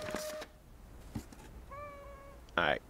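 A cartoonish cat meows a few times in the video game Little Inferno, with short, bright cries spread between brief clicks and game effects, fairly close and clear.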